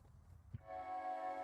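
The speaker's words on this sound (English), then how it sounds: "Hear the train." A train in the video game Little Rocket Lab sounds a sustained horn-like tone that rises in after a brief thump and holds steadily for about a second.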